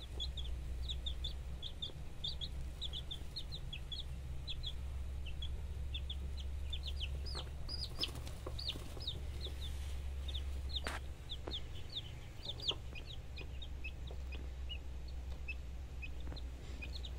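A hen clucks beside newly hatched guinea fowl chicks, their thin high peeps repeating steadily over a low constant hum and soft rustling.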